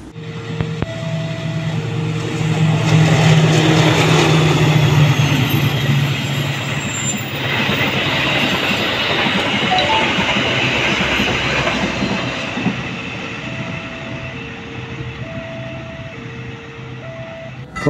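A passenger train running Gambir to Yogyakarta rumbles past with clattering wheels and squealing, loud and close, accompanied by a repeating two-tone station chime at an Indonesian railway station.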